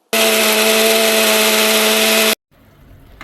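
A mixer grinder whirs loudly at a steady pitch for about two seconds as it blends tomato, cashew, almond, green chili, coriander and fresh coconut, then cuts off abruptly into near quiet.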